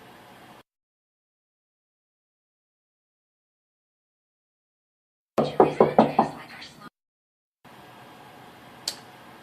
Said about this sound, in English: Just knock on the door and just walk right in.